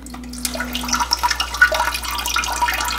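An Alpha Bidet JX spraying water in easy wash mode, a steady close hiss of running water with small splashes, preceded by a brief low hum as the nozzle extends.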